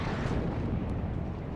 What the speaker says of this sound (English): Artillery is landing really nicely there.